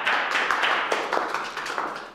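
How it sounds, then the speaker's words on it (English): Applause from an audience at a live executive speaking coaching session, a steady patter of many hands clapping at close range for about two seconds with no talk over it. "Round of applause, folks."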